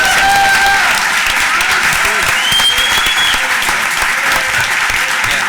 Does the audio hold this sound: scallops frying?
no